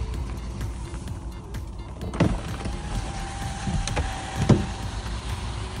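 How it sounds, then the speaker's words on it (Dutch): Electric canvas roof of a 2015 Peugeot 108 1.0 Active Top with automatic transmission, a steady motor whir with faint clicks and two brief knocks as the fabric top moves, no talking. "een canvas dakje. Een canvas dakje kan waarschijnlijk wel lopen."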